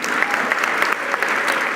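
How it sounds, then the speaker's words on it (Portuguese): A studio audience at a talk show gives a brief round of applause for a guest. The clapping is dense and even, and it holds at a steady level through the short moment. "Uma salva de palmas para a Sami."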